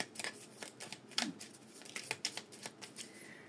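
A small deck of oracle message cards is shuffled by hand during a tarot-style reading, making a close, quiet run of soft papery flicks and riffles in an uneven rhythm.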